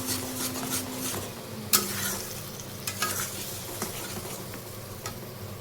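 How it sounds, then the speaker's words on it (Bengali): Katla fish kalia masala stir-fried over low heat, a gentle background sizzle punctuated by sharp metal spatula scrapes and clinks against the pan, close and unaccompanied by speech. "এখন এই সব কিছুকে খুব ভালো মতন আবার কষিয়ে নেব।"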